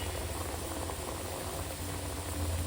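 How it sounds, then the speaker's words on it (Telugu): Homemade snacks deep-frying in hot oil, a steady bubbling hiss that stays even and continuous, with a low rumble underneath. "వాటంతట అవే వేగి పైకి వస్తాయండి అలా పైకి తేలిన తర్వాత ఒక లేయర్ ఫామ్ అయిందని అర్థం"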